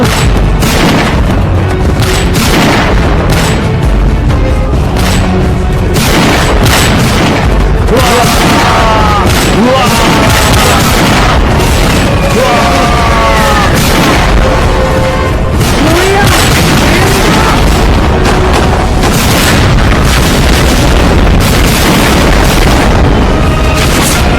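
Gunfire and explosions in a battle scene sound as a dense, loud, continuous barrage of booms and bursts, with shouting voices mixed into the din throughout.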